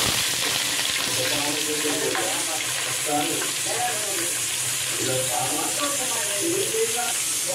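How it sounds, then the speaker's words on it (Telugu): Onions frying in oil in a pan for mutton dum biryani, a steady broadband sizzle running throughout with faint background voices or clatter underneath, no clear speech. "ఇలా ఆనియన్స్ వేసుకున్నాం కదా, బాగా బ్రౌన్ కలర్ వచ్చేలాగా వేసుకోవాలి"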